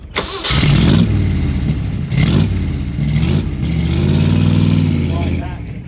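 A car at the Salon Privé London dealer parade fires up with a loud start, then revs in several strong bursts and drops back between them, heard up close.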